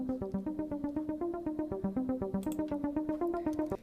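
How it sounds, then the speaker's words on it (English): A synth harp patch from the Alpha library plucks a rapid, even run of repeating notes in a steady rhythm, soft and alone. "So I picked out a little synth harp that's in alpha"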